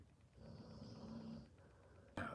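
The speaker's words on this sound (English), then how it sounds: "Damn, she's snoring." A woman snoring while asleep indoors, a low steady rumbling breath drawn out over a couple of seconds, faint and fairly close, followed by a sudden louder noise at the end.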